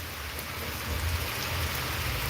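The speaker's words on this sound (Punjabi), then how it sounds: "ਤੁਸੀਂ ਦੇਖ ਸਕਦੇ ਹੋ ਤੇਜ਼ ਬਾਰਿਸ਼" Heavy rain pours down in a dense, steady hiss, loud and continuous with no voices, and a low rumble swells slightly partway through.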